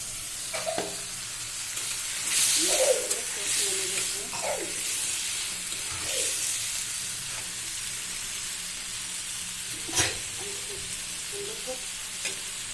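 Pointed gourd and potatoes frying in a pan, a steady sizzle with repeated stirring scrapes and occasional louder clatters, carried on under faint talking.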